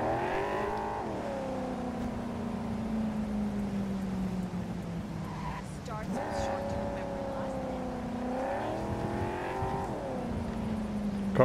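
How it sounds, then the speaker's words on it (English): A car engine drives in the video game Cyberpunk 2077 on PS4, droning steadily and close with gear shifts that rise and drop in pitch, and no one speaking. "Car sounds pretty good."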